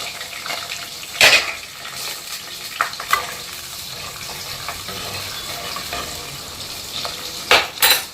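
Onions and green chillies frying in 50 ml of rice bran oil for egg kurma: a soft continuous sizzle broken by sharp clanks of a spoon against the pan and occasional stirring scrapes, close and loud.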